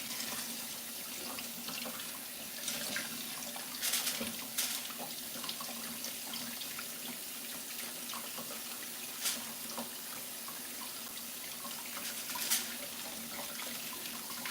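Running tap water pours steadily over catfish being washed in a sink, a continuous moderate splashing hiss with small bursts of splatter as the fish is handled, no talking.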